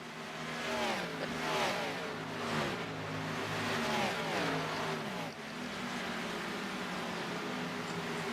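Stock race cars in a Xfinity Series race at Texas roar through the back stretch, a steady layered drone of several engines with rising and falling pitch sweeps as cars pass at mid distance, no talk.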